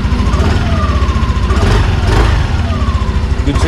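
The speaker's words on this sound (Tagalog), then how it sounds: "Yan, napakatahimik guys ang makina ng unit na to." A 2025 Yamaha NMAX V2 scooter, non-Y-Connect version, idles steadily up close, with an even, continuous engine hum that does not change over the few seconds.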